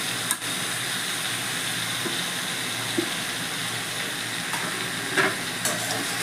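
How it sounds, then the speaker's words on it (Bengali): Spinach for palong shaker chachchari goes into a pan of curry and sizzles. A steady, fairly loud hiss carries on throughout, broken by a few brief knocks and clinks of stirring. "এবার আমি শাকটা ছেড়ে দিচ্ছি।"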